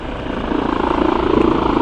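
A helicopter idles before takeoff, its rotor producing a loud, steady rhythmic thumping over an engine drone that grows slightly stronger, heard from nearby with no speech.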